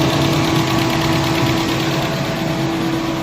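An overheating Chevy Cruze 1.4 engine runs with its cooling fans on high and coolant bubbling, giving a loud, steady whirring drone with a constant low hum underneath. No one speaks.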